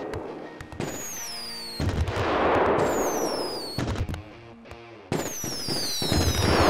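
Fireworks bursting in the video game GTA 5, a run of loud, close cracks and booms with whistling rockets in between, crowding one after another without any talk.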